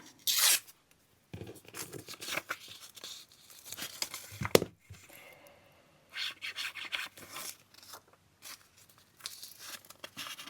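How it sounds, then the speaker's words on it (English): Scissors or a blade cut the edge off a paper journal page, heard as irregular close scratchy rasping and snipping bursts separated by quiet gaps, fairly soft overall. "So I'll just cut the edge off here."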